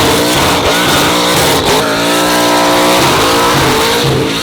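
A blown EFI 6-litre LS engine in a 1977 Holden HZ Ute revs hard, a loud, close, continuous roar rising and falling in pitch with heavy exhaust rumble throughout.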